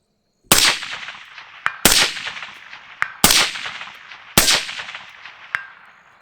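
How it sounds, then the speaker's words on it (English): Four sharp, loud AR-15 rifle shots ring out at roughly even intervals outdoors, each a hard crack with a ringing tail, plus faint metallic pings between them. "I'm trying to do some quick firing."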